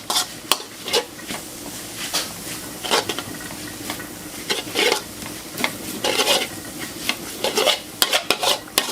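Eggs are scrambled with cabbage in a hot pan for a low-carb dish, with repeated close scraping strokes of a spatula over a continuous sizzle.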